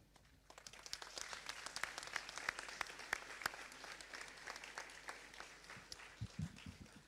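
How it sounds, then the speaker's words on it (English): A graduation ceremony audience rises and applauds the Minister of Agriculture, a full hall of clapping with sharp individual claps standing out, fairly distant and soft overall, with a few louder thumps near the end. "ask that we all rise and applaud the Minister of Agriculture as he addresses all of us"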